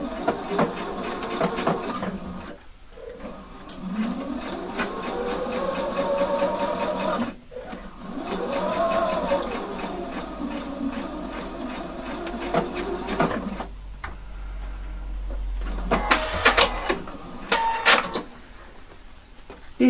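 A sewing machine stitches a menswear bust welt pocket, with rapid, buzzing, rhythmic stitching running almost continuously, broken by brief pauses and gliding tonal whines from changes in motor speed.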